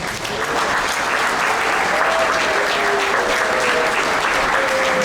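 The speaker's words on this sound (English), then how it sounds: "you can give him a round of applause" Sustained applause from an audience at a sports hall of fame induction ceremony, dense clapping at an even level for several seconds.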